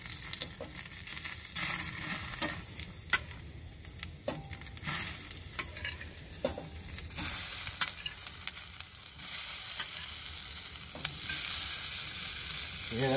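Vegetables for egg fajitas sizzle steadily on a hot Big Green Egg grill, a continuous crackling hiss punctuated by clacks and scrapes of a utensil, growing louder partway through.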